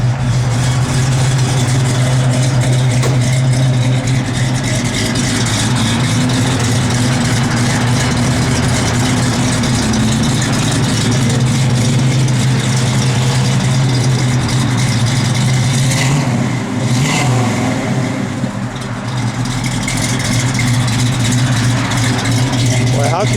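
A 1970 Ford Torino GT with a shaker hood, its engine idling with a deep steady low rumble that runs the whole time and sits close and loud, with someone talking over it now and then.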